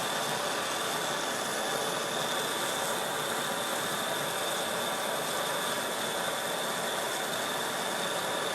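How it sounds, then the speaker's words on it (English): ASCO torch kit burning a large rosebud-style flame, a loud, steady, hissing roar that fills the whole clip without letup and without talking. "Oh yeah, a lot bigger flame. A lot noisier. This is more of a rosebud style flame."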